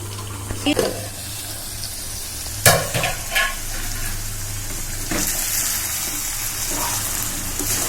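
Small fish curry frying in oil in a pan over a gas flame, a steady low sizzle running throughout with occasional stirring scrapes and clinks near the start and middle.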